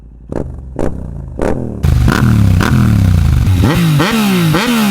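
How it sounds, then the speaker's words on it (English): A Yamaha MT-07 motorcycle's CP2 twin engine with an Akrapovic exhaust revs in a few sharp blips, then roars steadily close by, pitch rising and falling through repeated throttle pulls. "Hearing this beautiful CP2 engine with the Akrapovic exhaust."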